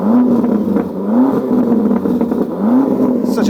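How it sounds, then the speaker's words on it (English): A Range Rover Sport SV's twin-turbo V8 revs repeatedly, three or four loud, close blips of rising engine pitch that fall back to idle between each, with no talk over them. "Rev it up again."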